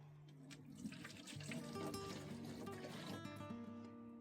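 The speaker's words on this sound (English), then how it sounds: "So I just put the extra water in here for later." Water poured into a watering can in a garden, a soft continuous trickle and splash that fills the whole stretch, faint and close, with a gently shifting tone as the can fills.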